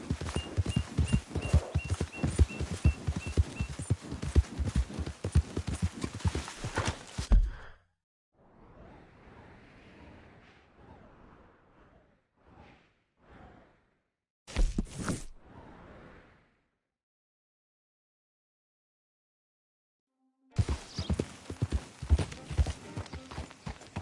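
Horse hooves clip-clopping in a quick, even rhythm up close, breaking off into a stretch of faint rustling and a few scattered thuds before the steady hoofbeats resume.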